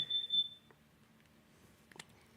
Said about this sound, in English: It was like an alarm.